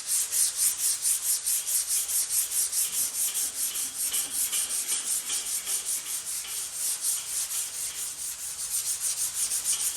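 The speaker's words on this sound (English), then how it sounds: "if I lightly go over it with the 120, it should show up where all the 80 grit sanding scratches are" Hand sanding of body filler on a Ford XA Falcon GT fender with 120-grit paper, a steady rhythmic scratching of quick back-and-forth strokes, close and alone.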